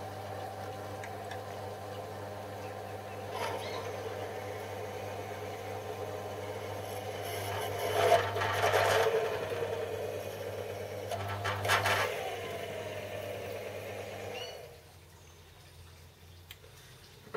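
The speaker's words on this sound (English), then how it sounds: "Let's try this D bit for boring it out. Give it some cranks." A hand-cranked D bit reamer bores out a hole with a steady low mechanical hum and faint ticking, rising into scraping bursts midway, then the hum cuts out, leaving near-quiet.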